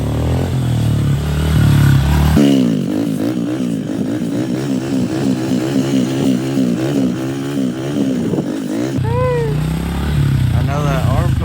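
A pit bike engine revs and pulls hard as the rider holds a second-gear wheelie through circles, the motor note rising and falling in a loud continuous warble, with brief voices and idle at the start and end.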